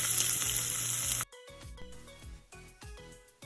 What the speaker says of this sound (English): add some olive oil to the heated pan. Add the chopped onion,